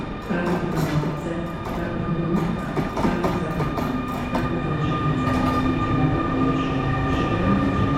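Train cars rolling through Kraków Główny station, a loud, steady rumble of wheels on rails with clickety-clack joints and sustained wheel squeal tones, continuous and close throughout.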